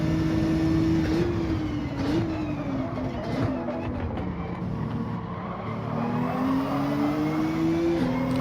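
A Toyota Supra race car engine in Gran Turismo 7 drones loudly and continuously, its pitch climbing and dropping as the revs rise and shift through gears.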